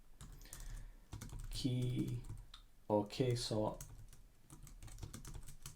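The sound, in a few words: typing code on a computer keyboard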